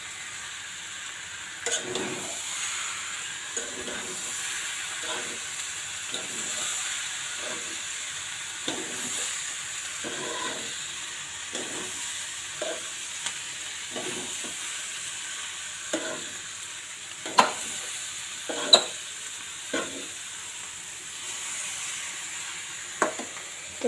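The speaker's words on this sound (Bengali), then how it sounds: "এই আমি দিয়ে দেবো লবণ হলুদ দিয়ে মেখে রেখেছি যে মাংসটা" Meat rubbed with salt and turmeric sizzles in a pan, a steady frying hiss broken by regular scraping stirs, with a few louder clatters near the end; no voices.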